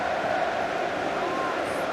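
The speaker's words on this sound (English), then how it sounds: "the home crowd starting to bounce" Home crowd roaring at a Rugby World Cup 2023 match between New Zealand and France, a steady, dense wall of cheering from the stands with a commentator's voice faintly mixed in.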